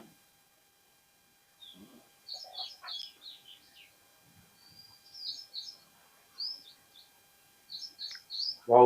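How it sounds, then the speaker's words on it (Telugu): Small birds chirp nearby in short, high, twittering bursts with quiet gaps between, fairly soft overall, and a louder brief sound lands at the very end. "పిట్టలు భలే వస్తున్నాయి"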